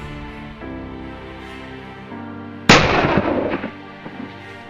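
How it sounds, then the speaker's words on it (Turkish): A single loud shotgun blast during dove hunting in open country, a sharp crack followed by a rolling echo that fades over about a second after a stretch of low ambient hum, with no voices. "Sezonun ilk üveyini vurdum"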